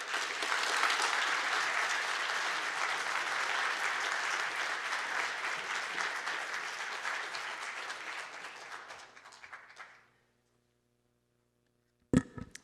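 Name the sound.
audience applause for the speakers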